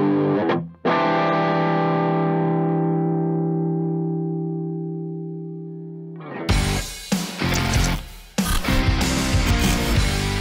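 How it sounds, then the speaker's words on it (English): Electric guitar through a Harley Benton MiniStomp Green Tint vintage tube-like overdrive pedal: a struck chord rings out and slowly decays, then a burst of driven, crunchy strummed playing follows, loud and up close with no talking. "the MiniStomp Green Tint is a vintage tube-like overdrive pedal"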